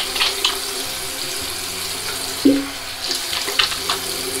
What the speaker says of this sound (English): Let me put the brush first in some hot water.